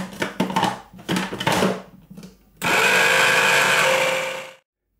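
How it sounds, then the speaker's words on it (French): Food processor mixing almond powder and icing sugar for white chocolate macarons, a few short pulsed bursts followed by one loud continuous whirring run of about two seconds that cuts off abruptly. "dans le robot, je mets donc la poudre d'amande, le sucre glace et je vais mixer pendant 30 secondes"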